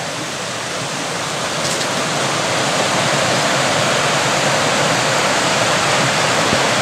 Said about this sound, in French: Et ça remplit une réserve d'eau. Avec un petit trop-plein.